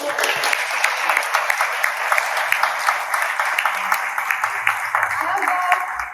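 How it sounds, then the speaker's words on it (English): Crowd at a heart health wellness event clapping for attendees, a steady patter of applause with sharp individual claps standing out, while a voice carries over it. "So please clap."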